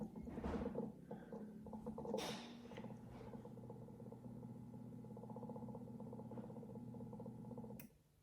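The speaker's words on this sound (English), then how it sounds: "And now you can hear it running. It's actually keeping the water warm for the next batch." A Keurig K-Cafe coffee maker runs while keeping water warm, giving a steady low mechanical hum with faint rattling, preceded by a few clunks and clicks, close and quiet.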